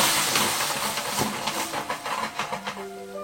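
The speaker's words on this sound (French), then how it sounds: "Je vais y ajouter une louche de bouillon de volaille" A ladle of chicken broth poured into a hot pan of butter, ginger, garlic and basil, giving a loud hissing sizzle with bubbling pops that gradually settles.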